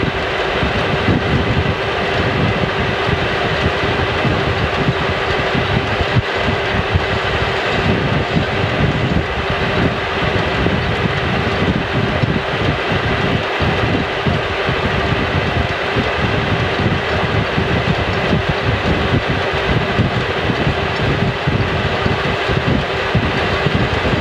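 A lathe turns a worn try cock steam valve, giving a loud, steady machine drone with a constant hum that runs unbroken throughout, with no voices.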